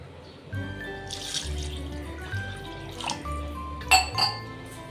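A glass of water is poured into a mixer jar for spiced buttermilk in short splashing bursts, with a glassy clink near the end, over quiet tonal music in the background.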